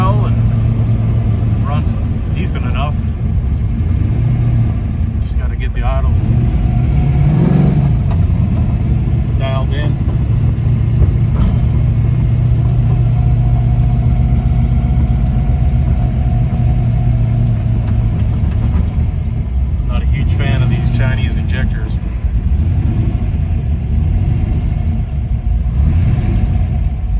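A car engine runs steadily and loud throughout, with a few revs rising and falling, under intermittent talk close by in a garage setting.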